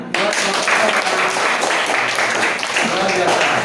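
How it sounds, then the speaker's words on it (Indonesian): Classroom applause from students, a dense burst of clapping that starts suddenly and continues steadily for several seconds with voices mixed in. "Tepuk tangan."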